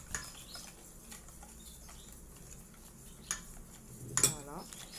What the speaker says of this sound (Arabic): نزيدوا الكاس تاع الفرينه الاولاني، نزيد نخلط